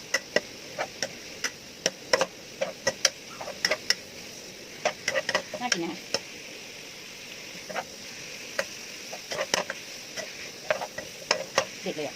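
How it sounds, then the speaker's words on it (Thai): Pounded chili and garlic stir-fried in a pan for a pork belly and kale dish, with close, steady ticking scrapes and sharp clicks of a spatula over a soft sizzle, no talking. "เอาพริกกระเทียมที่เราโขลกไว้ลงไปผัดด้วย"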